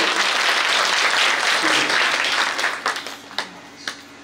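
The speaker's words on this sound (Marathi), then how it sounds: "श्री हरिभक्त पारायण माऊली दादा आव्हाड यांच्यासाठी एकदा जोरात टाळी वाजवा" Audience at a devotional kirtan gathering clapping loudly for a mridang player, a dense burst of applause that thins into a few scattered claps at the end.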